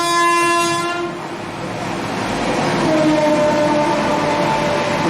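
A train passes with a horn blast at the start, its harmonic tones fading as the rumble of wagons and rail noise carries on steadily and loud throughout, with no talk.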